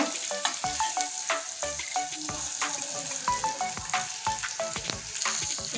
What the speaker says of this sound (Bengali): এখানে দেখুন পটল ভাজা বসিয়ে দিয়েছি এবার উল্টিয়ে নেব